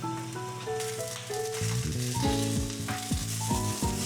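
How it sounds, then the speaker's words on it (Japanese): Boiled, peeled food browns in a pan over medium heat, giving a continuous close sizzle under melodic background music. "中火で焼き色をつける。"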